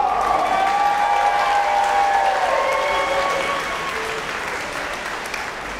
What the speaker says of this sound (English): Give them one giant round of applause